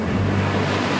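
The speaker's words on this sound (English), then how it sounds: "The ocean wasn't exactly calm, it was angry." Rough, angry ocean surf breaking on a grey, cloudy beach as the tide comes in, a steady loud wash of water and wind with no voices.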